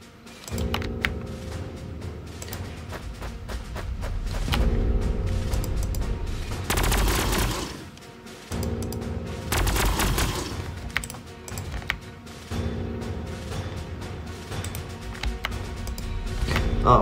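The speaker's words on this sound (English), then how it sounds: "Fire! Main cannon!" Main cannon blasts and gunfire from the Warhammer 40,000 strategy game Sanctus Reach: The Sons of Cadia, loud repeated booming volleys with dense rattling fire, two big surges around the middle over a continuous battle din.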